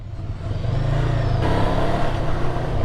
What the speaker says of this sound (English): initial feeling, I don't know if the engine feels a little smoother